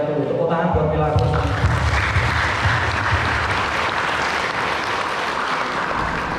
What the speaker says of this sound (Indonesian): Tepuk tangan buat Milagros.